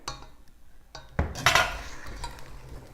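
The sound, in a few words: mixing rhubarb into egg mixture in a bowl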